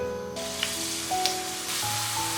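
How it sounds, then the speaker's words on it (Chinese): Dumpling wrappers fry in hot oil in a wok, giving a steady close sizzle that carries on throughout with a few faint pops and no talk. "油温5成热，放入刚才切好的饺子皮"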